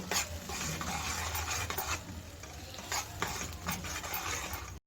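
Tomato gojju cooking in a pan on a stove, stirred steadily with a utensil: a continuous close sizzle with scraping strokes and a few louder swishes, no voices.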